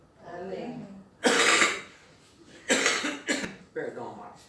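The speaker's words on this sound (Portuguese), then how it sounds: "Essa semana foi difícil, de tosse" Several harsh coughs from one person, loud and close, coming in separate bursts with short pauses between them, and a brief stretch of speech just before the first.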